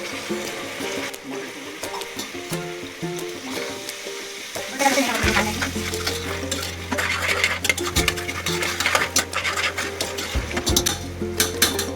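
Water splashes into a hot pan of potato poha, setting off a loud, steady hiss and bubbling close by, with stirring clinks and scrapes of a spoon, and no talking.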